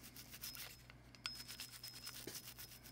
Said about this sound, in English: go ahead and give her a good brush down